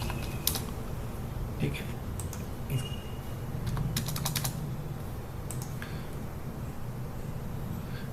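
Keys clatter on a computer keyboard while an amount is entered into an online income tax return form, with bursts of close typing separated by pauses and a brief spoken word.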